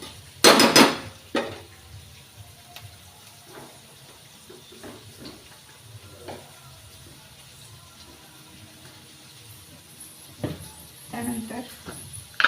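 Chopped onions being mixed in a pan: a sharp burst of clattering at the start and another later, with sparse scraping between and a voice speaking softly in the background.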